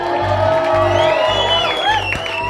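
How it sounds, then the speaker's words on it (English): Concert audience cheering and whooping in a loud, sustained roar of applause, shouts rising above the crowd, with deep low thumps underneath. "Give yourselves a large round of applause"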